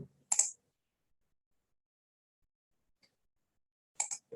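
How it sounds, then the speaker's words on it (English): A computer mouse gives a quick double click, then another pair of crisp clicks after a long near-silent pause, close and quiet in an otherwise still room. "I'm double clicking on it."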